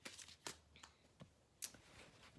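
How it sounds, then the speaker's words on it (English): Faint, sporadic shuffling of tarot cards, a few soft riffles and slaps spaced irregularly in a quiet room. "while I'm shuffling"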